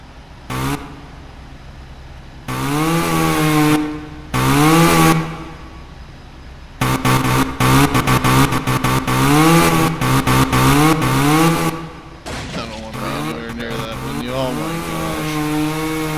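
A chainsaw in the video game EmergeNYC buzzes and revs in repeated bursts while cutting a roof, some short and some long, its engine pitch rising and falling, loud and close.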